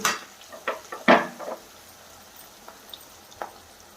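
Onions with salt fry in an aluminium pot, with a few sharp metallic clinks and scrapes of a utensil against the pot over a faint, low sizzle, then a quieter stretch with light taps.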